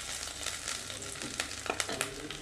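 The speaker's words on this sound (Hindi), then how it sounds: "हमने कढ़ाई में तेल गर्म कर लिया है। अब इसमें डालेंगे हम अदरक" Chopped ginger hits hot oil in a kadhai with a soft, steady sizzle and crackle, fairly quiet, with a few sharper pops and stirring sounds near the end.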